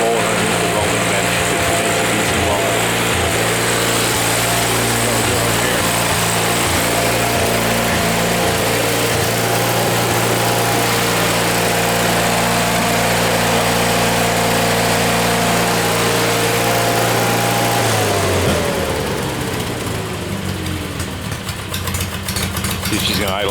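A small snowblower engine idles steadily and loud for about eighteen seconds, its pitch then dropping as the revs fall away, with no talk over it.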